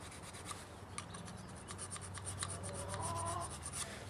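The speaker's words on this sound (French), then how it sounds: "Donc, moi j'ai une petite pierre. Et puis je le refais doucement mon tranchant." A small sharpening stone is rubbed gently against the flat steel blade of pruning shears, giving a quiet, close, continuous scraping rub with faint repeated strokes and no speech.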